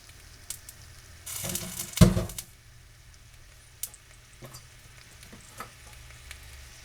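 Three pounds of onions hit a pot for beef curry with a loud burst of sizzling and a heavy dump, then settle into a quieter fry marked by scattered clicks and stirring scrapes.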